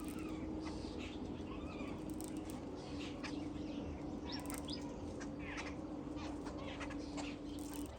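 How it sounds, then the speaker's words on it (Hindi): Crows and other birds calling repeatedly over a steady background of chatter as a crowd of birds gathers to feed in the morning, caws and chirps scattered throughout, fairly close. "आज भाई सुबह सुबह इतना सारा चिड़िया आई है खाने के लिए"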